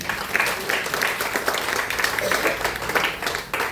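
A church congregation applauding loudly, with steady, dense clapping and a few voices and cheers mixed in, sustained for several seconds in a reverberant hall.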